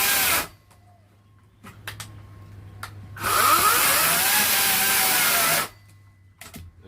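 A Ryobi 18-inch 40V brushless cordless electric chainsaw cuts into firewood with a steady, loud whirring burst of about two and a half seconds, framed by quieter idle moments and short clicks.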